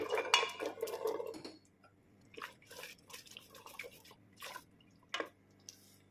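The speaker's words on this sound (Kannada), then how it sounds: "ಈಗ ಇದಕ್ಕೇನೆ ನಾನು ಕಾಬಲ್ ಕಾಳನ್ನ ಹಾಕೋತಾ ಇದ್ದೀನಿ." Kabuli chana (chickpeas) tipped into a cooking pot for kurma, opening with a dense clatter of the legumes and vessel, then sparse wet clinks and drips in a quiet kitchen, with no speech.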